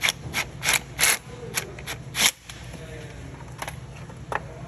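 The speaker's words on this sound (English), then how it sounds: "Grab our bolt, tighten it just a bit." Bolt tightened on the front bumper of a Venom 110cc Mini Madix gas-powered ATV, with a few short scraping, rasping metal strokes in quick bursts up close, then quieter clicks.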